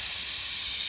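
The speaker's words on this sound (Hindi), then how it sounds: "ये टेक्निक है भाई गैस निकालने की" A steady, even hiss of steam escaping from a pressure cooker over an outdoor cooking fire, close and continuous for a brief moment with no other sound.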